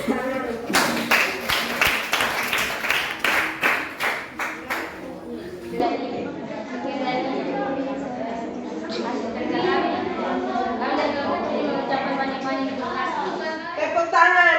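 A seventh-grade classroom claps for a presentation group, a burst of rhythmic hand claps for about five seconds that then fades into busy children's chatter and voices.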